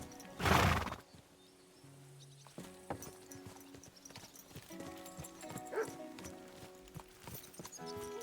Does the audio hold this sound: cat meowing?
no